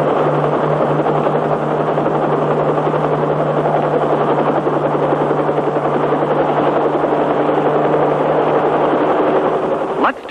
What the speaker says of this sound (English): This tiny control stick can fly the pilotless copter in any direction.